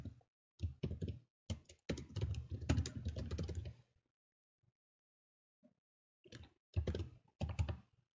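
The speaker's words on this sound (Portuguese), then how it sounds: "Eu vou digitar uma mensagem aqui." Bursts of typing on a computer keyboard while entering a message into a Python program, a few seconds of clustered key clicks, a silent pause, then more quick keystrokes, close and clear with no talking.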